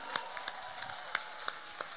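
Sparse, scattered hand clapping from a small part of the audience at a live music awards ceremony in Pará, a few separate claps spaced irregularly, fairly faint and without talk.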